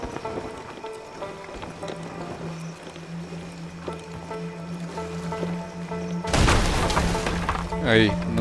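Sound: ship breaking apart in the video game Sea of Thieves

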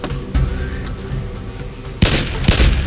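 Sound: gunfire in the video game DayZ

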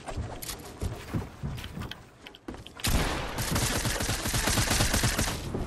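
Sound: gunfire in a video game

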